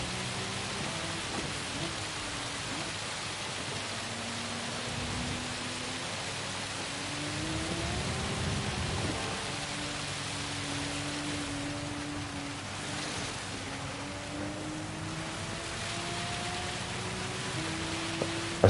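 Heavy rain at the Spa circuit in the racing game Gran Turismo 7 hisses steadily as a dense wash, while a car engine's rising and falling tones run beneath it throughout.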